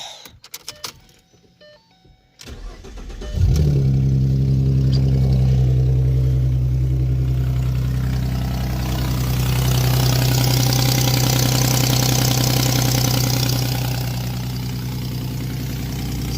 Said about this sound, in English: let me start the car for you real quick and show you what I'm talking about